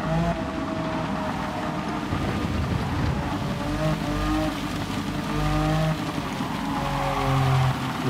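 Wind rushing past a Porsche 911 Turbo 930 from 1981 in Gran Turismo 7 on the Nürburgring Nordschleife, a continuous airy hiss over a low engine drone with shifting tones.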